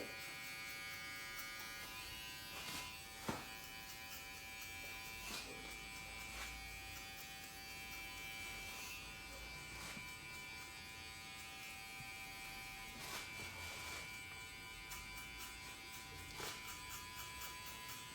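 Electric hair clipper buzzing steadily through a head shave during a barbershop-style livestream, a continuous mid-level drone with intermittent sharper clicks and bumps as the blades move across the head.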